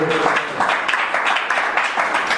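A church congregation applauds God, a dense and fairly loud burst of clapping from many hands that keeps up without a break.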